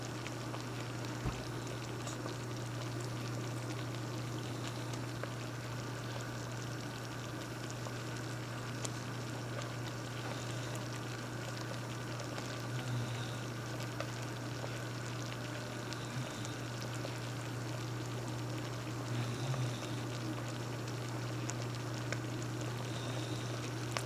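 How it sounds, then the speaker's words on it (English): Cranberry jam at a rolling boil in a pot, a dense steady bubbling and sizzling texture with a constant low hum underneath, continuous and fairly close. "Now we're going to let it boil for 1 minute and then take it off the heat."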